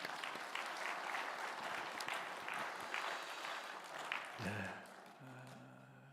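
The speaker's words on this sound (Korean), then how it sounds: "그런 하나님과 우리 모두에게 감사의 박수 한번 합시다." A church congregation applauds in a dense, sustained burst of many hands, moderately loud, then fades out as a sustained tone comes in near the end.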